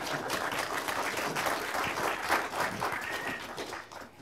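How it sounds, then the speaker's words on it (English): An audience at a panel discussion on 3D production applauds, a dense, sustained wash of many hands clapping that fades slightly at the very end. "Don't hold your applause by any means."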